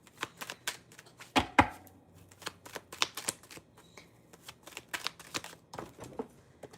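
Tarot cards are shuffled and drawn by hand, giving rapid papery flicks and taps in uneven bursts, with a louder riffle early on; close and continuous throughout.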